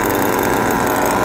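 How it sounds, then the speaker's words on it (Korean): A small nitro engine on an FW06 RC buggy runs loud and close, giving a continuous, steady buzzing drone with no pauses and no voices. "잘 되는데 작은 엔진이 잘 안 되네요"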